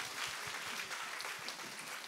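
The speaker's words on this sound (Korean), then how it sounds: "우리 큰 박수로 하나님께 영광 올리겠습니다." A church congregation claps together at an Advent Sunday evening graduation service, a dense and sustained roomful of applause that sounds near and steady, with no talk over it.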